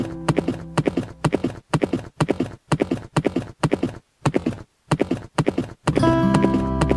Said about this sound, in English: Listen to the hooves of the horse.